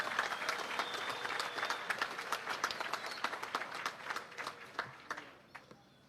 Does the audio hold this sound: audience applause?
yes